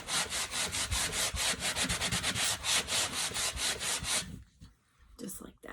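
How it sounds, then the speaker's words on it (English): Rapid back-and-forth rubbing of a sanding sponge along the edges of a wooden word board, a quick steady scratchy rhythm close up, stopping near the end. "I'm going to start just sanding the edges"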